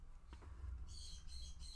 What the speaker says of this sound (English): My birds are freaking out, so you'll have to excuse that.